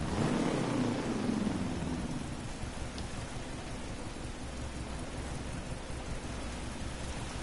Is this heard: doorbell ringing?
no